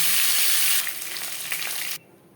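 Bhola bhetki fish sizzles loudly in hot oil, a dense crackling hiss that eases slightly partway through and then drops off abruptly.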